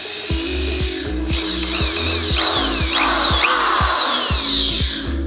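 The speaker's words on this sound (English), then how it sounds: "I'm gonna go off that and get drilling" A power drill bores a small hole in a BMW E46 car part during a halo headlight install, the motor whirring steadily in repeated short bursts as the bit bites and stops, close up.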